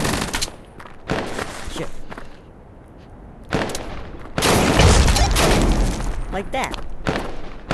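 Rapid bursts of gunfire in the VR shooter Tactical Assault VR, loud and close, with sustained automatic fire in the second half and a voice speaking briefly over it.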